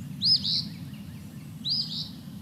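Eastern phoebe calling twice, two short raspy high notes about a second and a half apart, faint and somewhat distant over a steady low rumble of background noise.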